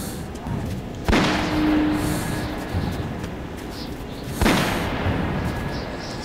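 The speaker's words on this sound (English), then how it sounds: "But gunfire carries so much." Two sharp, loud gunshot bursts in the video game Metro 2033, about three seconds apart, each ringing out over a steady rumbling background of game noise.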